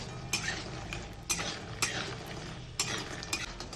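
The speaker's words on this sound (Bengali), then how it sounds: "আর সুন্দর করে লাল করে বড়িটাকে ভেজে নেব।" Lentil dumplings (bori) fry in a pan for a festive-style shukto, a soft, low sizzle broken by regular clinks and scrapes of a spatula stirring against the metal.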